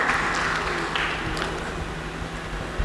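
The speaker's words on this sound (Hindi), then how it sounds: "आप सब इजाज़त दें एक बार थोड़ी तालियां बजा के तो पढ़" An audience claps at the Ramnagar mushaira, an Urdu poetry gathering, a dense, moderately loud patter of many hands that gradually thins out.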